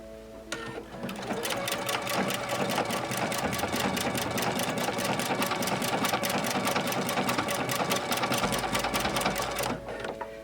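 A sewing machine stitches a double ribbon stitch, ribbon tucked under the raised foot by the needle, running in a steady rapid rhythm for about nine seconds, close and clear with no talk.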